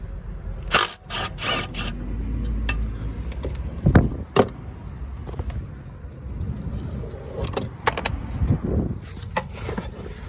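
12 mm clutch bolts are being undone from the flywheel of a Citroen C1, with close metallic clicks, ratcheting and scraping of tools against the parts, irregular and sharp.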